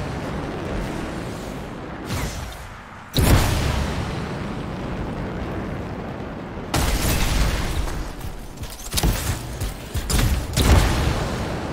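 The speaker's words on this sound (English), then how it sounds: "It'll be a contained explosion." Canisters exploding in the video game Anthem, loud booming blasts that erupt in several bursts and rumble on between them, with no talking over them.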